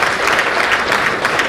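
A seated audience at an awareness meeting on domestic violence law claps loudly and continuously for a woman official, dense clapping filling the whole moment.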